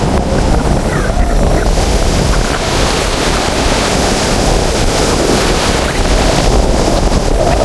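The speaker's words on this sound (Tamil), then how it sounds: "இங்கே பாருங்க பயங்கரமாக அடிக்குது காற்று" Strong storm wind roars and buffets the microphone beside crashing surf at Keerimalai, a loud, continuous rush with no pauses.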